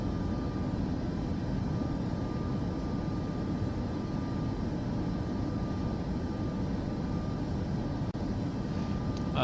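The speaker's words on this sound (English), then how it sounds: "And that's a 737 departure." Boeing 737 jet departure in Microsoft Flight Simulator 2024, a steady, loud broadband engine roar that holds constant throughout with no talk.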